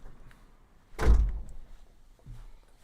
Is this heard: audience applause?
no